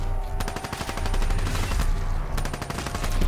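Submachine gun fire in Black Ops III Zombies, loud rapid bursts of automatic shots with a short gap between them, continuous game background beneath and no talking.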